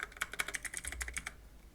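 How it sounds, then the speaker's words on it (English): Rapid keystrokes on a computer keyboard under Windows, about a dozen crisp clicks in quick succession, fairly close and quiet, with no voice. "click here and now type after that type here Roblox"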